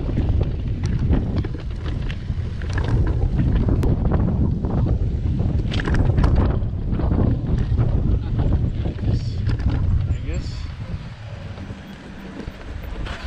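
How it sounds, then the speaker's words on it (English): Strong wind buffets the microphone at a campsite, a loud, gusty roar with rumbling low bursts that eases slightly toward the end. "The wind is just picking up more and more."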